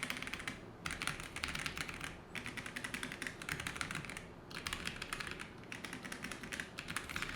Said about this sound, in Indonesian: dan kita akan coba typing test ya